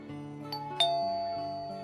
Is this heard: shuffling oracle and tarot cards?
no